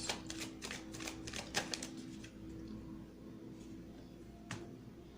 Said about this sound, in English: Let's get 2 more cards.